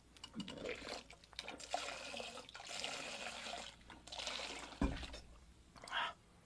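Water poured out of a bucket, about a gallon, a continuous splashing and gushing that surges and eases over several seconds, with a thump partway through.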